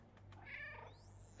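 A cat meowing in the video game Stray, one drawn-out meow at moderate level over a low steady hum of game ambience, with a faint rising tone near the end.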